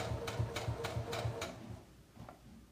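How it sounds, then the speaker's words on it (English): A quiet home sewing machine runs a seam in short bursts of rapid, even stitching, close and soft, then slows and stops near the end. "isn't this sewing machine quiet?"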